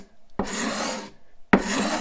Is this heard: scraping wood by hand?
yes